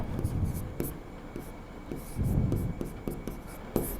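A board being written on in a class, soft strokes and taps arriving in short irregular bursts, with a quiet voice speaking underneath.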